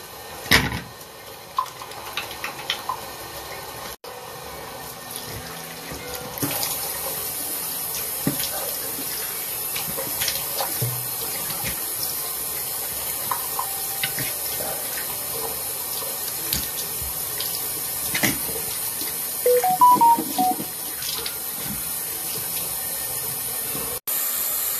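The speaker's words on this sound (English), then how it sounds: "let me just wash my face" A bathroom sink tap runs steadily for face washing, a continuous close hiss of flowing water with occasional splashes and clicks breaking through.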